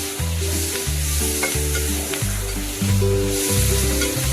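Green chili and tomato sauté in a pan for a brinjal gravy, giving a loud, constant sizzle with stirring throughout.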